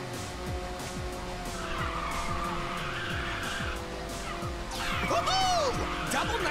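A race car in the video game Ridge Racer 6 drifts under nitrous boost: a roaring engine with repeated gear-shift revs, continuous tire squeal, and a rising whoosh near the end, loud and sustained.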